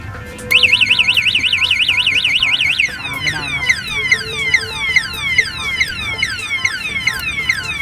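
A DEMON 150GR anti-theft car alarm blares up close. A rapid warbling tone gives way to a repeating series of falling siren sweeps, while someone talks over it.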